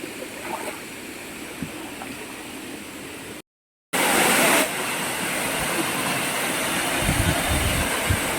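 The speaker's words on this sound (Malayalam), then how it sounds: "ഇതാണ് നമ്മുടെ വട്ടായി വാട്ടർഫാൾസ്" Vattayi waterfall in Kerala pours with a steady broadband rush of falling water, continuous and fairly loud, broken by a brief gap and then a louder burst before the flow settles again.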